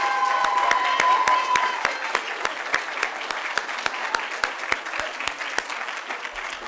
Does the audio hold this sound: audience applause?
yes